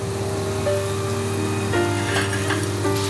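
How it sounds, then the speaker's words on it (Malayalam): Potato sticks deep-frying in hot oil, a steady sizzling hiss that runs throughout with a few faint clinks, and no talk. "നമ്മളുടെ പൊട്ടറ്റോ സ്റ്റിക്സ് എല്ലാം തന്നെ നമ്മൾ എണ്ണയിലേക്ക് ഇട്ട് കഴിഞ്ഞു"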